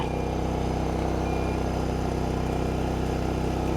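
A car engine idles steadily, recorded right at the exhaust, a low, even, pulsing rumble with no change in pace throughout.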